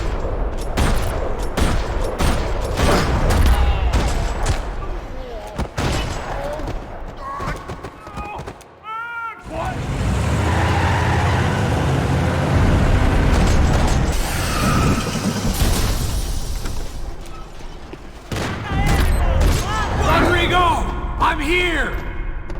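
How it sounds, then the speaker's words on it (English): Bursts of gunfire echoing through a parking lot in the video game Max Payne 3, rattling volleys and mechanical clanks alternating with a voice speaking between the shots. "Another parking lot rattling with gunfire."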